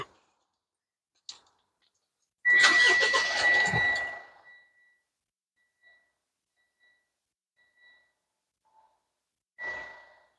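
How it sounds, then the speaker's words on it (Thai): A 2021 Mitsubishi Triton 2.4 diesel pickup engine cranks and catches with a rough, rattling burst that quickly dies down to near quiet, with a few faint clicks after. "ได้ฟังเสียงเครื่องยนต์กันหน่อย"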